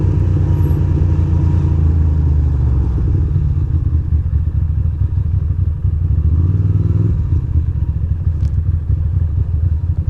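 A motorcycle rides through Midtown Manhattan with a loud, steady engine rumble close by, shifting in pitch as it moves through traffic, with no voices.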